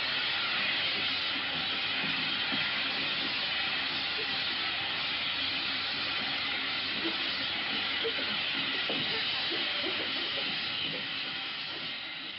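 A steady, broad steam hiss fills a steam room aboard a wartime submarine and holds at an even loudness for about twelve seconds without speech.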